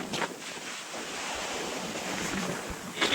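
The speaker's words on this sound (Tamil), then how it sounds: "இங்க கீழே பாத்தீங்கன்னா அப்படியே அலை அடிச்சுக்கிட்டே தான் இருக்கு ஒன்னு விட்டு ஒண்ணு." Sea waves breaking on rocks at the coast near the Thiruvalluvar statue, a steady rushing wash of surf with gusty wind buffeting the microphone, no voices.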